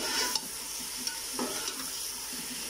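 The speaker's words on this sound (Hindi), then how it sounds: "चिकन को हमने अच्छी तरह फ्राई करना है जब तक हमारा चिकन ब्राउन ना हो जाए।" Chicken frying in a pot for pullao, a steady close sizzle with occasional spoon scrapes as it is stirred, and no voices.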